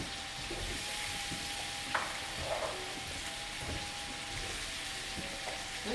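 Peaches sizzle steadily in a fairly large sauté pan, a soft continuous frying hiss with a few small pops and stirring clicks, moderately quiet throughout with no talking.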